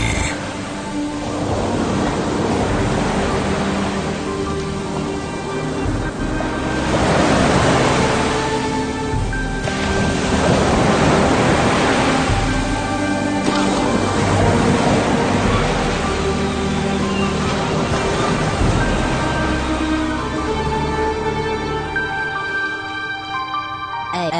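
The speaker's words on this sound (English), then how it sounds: "when you hear the sounds of the ocean" Ocean waves surging and washing in repeated swells as a sound effect under a sports radio show, with faint music tones layered in, loud and continuous.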